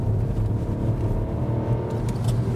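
Ford Puma crossover engine running steadily in second gear, a continuous low rumble with road noise from inside the cabin, fairly loud and even, without speech.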